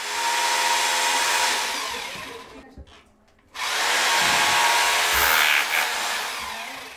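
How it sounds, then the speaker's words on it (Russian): A rotary hammer drill runs loud and steady while workers hang modular panels in a school dormitory. It stops briefly partway through, then starts again with a harsh, constant whine. "Шум перфоратора нарушил тишину спального корпуса"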